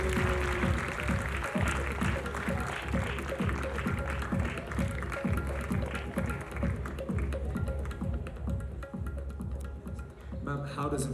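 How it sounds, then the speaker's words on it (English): An audience at the Umang 2016 college fest claps loudly and steadily for about eleven seconds, a crowd of hands beating in a quick, fairly even rhythm with a low background hum. "Everybody in the house, let's have a huge round of applause."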